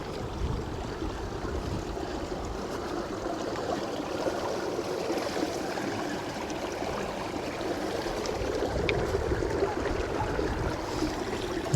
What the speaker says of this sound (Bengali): জল দেখুন একবারে গাই গাই করে জল যাচ্ছে